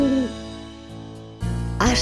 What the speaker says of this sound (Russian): Филин.